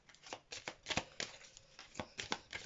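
Tarot cards being shuffled by hand, a quick run of crisp riffling flutters and soft slaps, close and fairly quiet with no talk.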